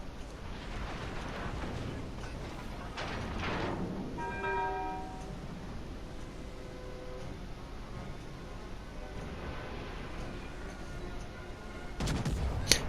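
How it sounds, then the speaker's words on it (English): Battleship main-gun salvos in World of Warships Legends, heavy booming shots and rumbling impacts set apart by quieter stretches, with a sharp loud blast near the end. "Third salvo coming in."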